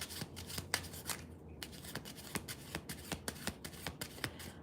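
Tarot cards shuffled by hand in a rhythmic series of soft riffling slaps and brushes, close and moderately quiet, repeating at a steady pace with a short pause near the start.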